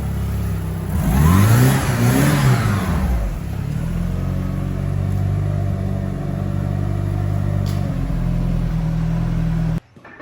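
A 1993 Eagle Talon DSM engine accelerates with a rising rev in the first few seconds, then settles into a steady, close, loud drone as the car drives along, cutting off abruptly at the end.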